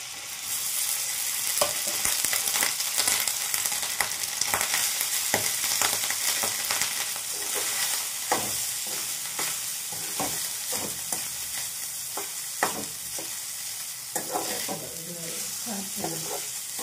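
Cooked rice tossed into a hot pan for Andhra-style aavakaya fried rice sizzles loudly and continuously, punctuated by frequent scraping stirs of a spatula, with no voices.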